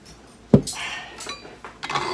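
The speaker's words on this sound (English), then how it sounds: "we're going to measure out 2 cups of beans for the quarts" Dry beans measured out for canning clatter into a cup, with a sharp knock followed by a few rattling pours and scrapes, close and fairly loud in a quiet kitchen.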